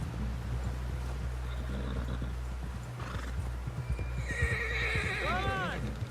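A horse in Red Dead Redemption 2 gives a clear whinny near the end, after steady hoof clip-clop on a ride toward camp, with in-game characters talking and a commentator's voice over a low rumble.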